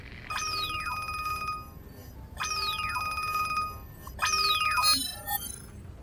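A telephone rings three times in a steady pattern, each ring a warbling electronic trill with short gaps between rings.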